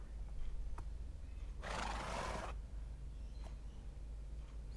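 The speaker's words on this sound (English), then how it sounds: "This is a donkey." A donkey in the Minecraft video game lets out a single braying, whinny-like call lasting about a second, fairly loud against a quiet background with a few faint clicks.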